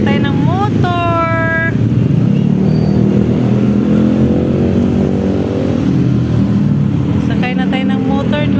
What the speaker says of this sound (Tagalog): Sakay na tayo ng motor.